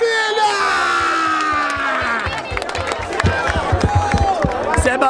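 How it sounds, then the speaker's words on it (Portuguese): A crowd cheering, whooping and clapping at the Batalha da Aldeia rap battle final in Barueri, loud and close, with scattered sharp claps and a falling whistle-like tone early on amid the roaring noise. "Muito barulho e palmas nessa batalha, família!"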